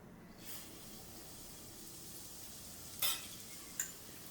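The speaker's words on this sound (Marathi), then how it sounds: "आणि ह्याच्यातच आपल्याला आता लापशी भाजून घ्यायची" Broken-wheat lapsi roasting in ghee in a pan over a medium flame: a faint, steady hiss with a couple of brief spoon scrapes against the pan near the end, no voices.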